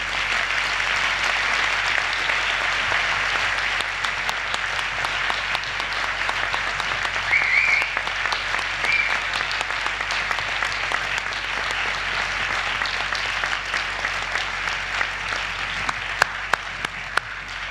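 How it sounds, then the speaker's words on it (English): Sustained audience applause at a graduation ceremony for a hotel management faculty, steady and dense from start to finish with no pauses, filling the hall at an even level. "the strength of the applause from students, graduates of Des Hôtels Faculty of Management, and of the audience generally indicates to you the respect in which you are held"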